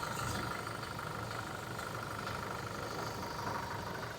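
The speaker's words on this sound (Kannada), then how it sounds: "ಇದೆ ಗಾಡಿ ಇಂಜನ್ ಐತ್ರಿ" Toyota Innova Crysta engine idling, a steady even hum with a faint higher whine, held at moderate level throughout with no speech.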